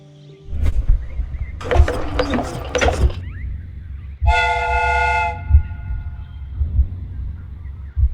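A replica train's steam whistle in the Sherlock Holmes: Crimes and Punishments video game blows one loud, steady, roughly second-long blast, surrounded by clanking mechanical rattles and a low rumbling background.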